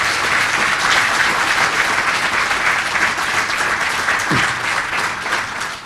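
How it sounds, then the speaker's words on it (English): Sustained applause from a lecture audience at a university inaugural lecture, steady and dense throughout, filling the room with no speech over it. "Please give her a warm round of applause."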